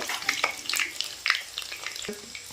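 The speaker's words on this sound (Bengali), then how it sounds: "ওই তেলে আমরা সেদ্ধ করে রাখা আলুটা একটু ভেজে নেব নুন দিয়ে সেদ্ধ করা ছিল" Salted boiled potatoes fry in hot oil in a pan, a close continuous sizzle with small pops and a few stirring knocks across a short stretch.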